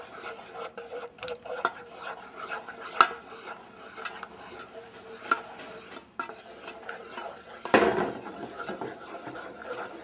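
A spoon scrapes and stirs a thick peanut butter mixture in a bowl, producing close, repeated rasping and clinking strokes with one sharper knock and a louder scrape near the end.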